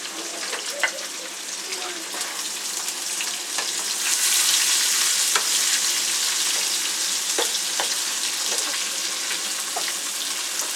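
Onions and meat fry in a pan, giving a steady, close sizzle with scattered crackles and pops. The hiss swells a little louder partway through and stays even to the end.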